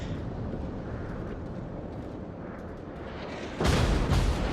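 Yamato battleship firing its main guns in World of Warships, a steady low rumble of engine and sea building to a sudden loud, heavy boom near the end that stays thick and roaring as the clip closes.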